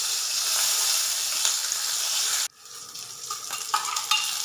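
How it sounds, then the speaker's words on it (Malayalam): Curry leaves, turmeric and asafoetida frying in hot oil, a loud, dense sizzle that suddenly drops to a quieter crackle partway through, with a few light stirring knocks afterward. "ഇതിലേക്ക് കരിയാപ്പിലയും കൂടെ ചേർത്ത് മൂപ്പിച്ചെടുക്കാം."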